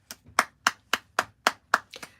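A single pair of hands claps about seven times in a quick, even rhythm, each clap crisp and fairly close, with no voices over it.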